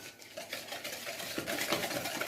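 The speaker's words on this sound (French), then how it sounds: "Donc je vais fouetter les deux pour bien les incorporer." A whisk beats egg and sugar in a bowl, making a quick, continuous swishing with faint tapping against the bowl, close and steady with no talk.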